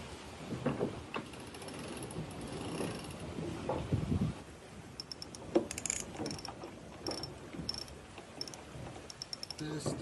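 A starboard runner winch on an offshore racing sailboat is spun by hand, giving sparse, irregular mechanical clicks and ratcheting rattles with a faulty, near-silent pawl action, faint against a noisy cabin background.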